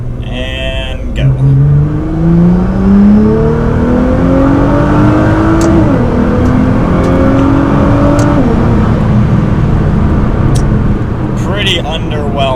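Tuned Nissan GT-R accelerating from a standstill in a restricted valet mode, engine pulling up through two gear shifts with a rising whine and a steady interior drone, a voice speaking briefly at the start and end.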